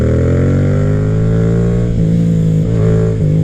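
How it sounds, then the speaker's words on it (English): A 2021 Yamaha MT-07 motorcycle engine, recorded close and loud, hums and revs gently under light throttle, with a steady low drone that rises slightly as the revs lift. "that's just me babying the throttle"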